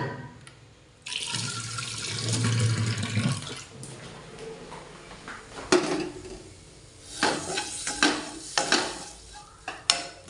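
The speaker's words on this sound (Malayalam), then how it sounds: "കുറച്ച് വെള്ളം ഇട്ടിട്ടെ." Water is poured into a hot pan of fish curry made with fish masala powder, bringing a burst of sizzling and bubbling, then spoon stirring and clinks against the pan, close and moderately loud.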